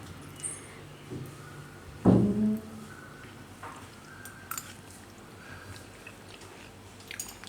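A single bite of homemade mango coconut laddu, a soft sweet, is taken up close, then quiet faint chewing follows over a low, hushed background.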